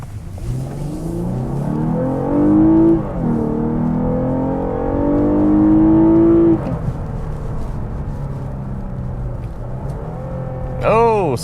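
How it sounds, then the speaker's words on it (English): A 2020 Lexus GS350 AWD sedan in sport mode accelerating hard from inside the cabin, engine note climbing in rising sweeps, dropping as it shifts, then climbing again with an automatic downshift. "Oh, sport mode does some downshiftting on its own for you."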